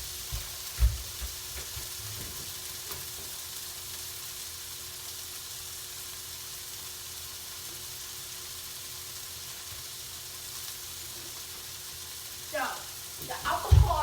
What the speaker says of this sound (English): Be sure that you need to sear these onions.